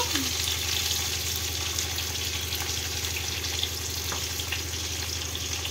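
Fried potatoes sautéing in a pan with dried red chillies, ground spice paste, salt, turmeric and cumin, giving a loud, continuous close sizzle with faint stirring scrapes and no talk.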